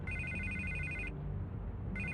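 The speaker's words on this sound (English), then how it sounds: "I can't get the phone to stop ringing." A telephone ringing in the video game Batman: The Telltale Series, with two bursts of a quiet electronic ring separated by a short pause, over a low background hum.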